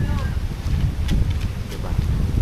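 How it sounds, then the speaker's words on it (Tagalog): Strong wind off the Pacific Ocean roars steadily and close at the microphone, a dense low buffeting rush with no break. "Ngayon walang bagyo pero tingnan mo yung hangin."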